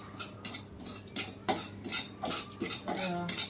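Poppy seeds dry-roasting in a pan for gum and fenugreek laddoos, stirred with a utensil that scrapes and clinks against the metal in steady, repeated strokes, close and fairly loud, with no talking.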